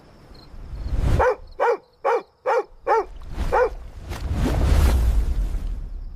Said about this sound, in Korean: 그녀는 풍산개의 짖는 소리를 들으며 평온하게 아침을 맞이하겠지만